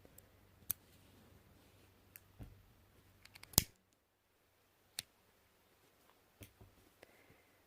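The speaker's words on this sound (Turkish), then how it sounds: "İyice sıkılaştırdıktan sonra yine burayı kesip yakacağım." Scissors snip thread while a miniature flower brooch is made in needle lace, giving a few sharp, quiet clicks and cuts scattered through near silence, with one louder snap in the middle.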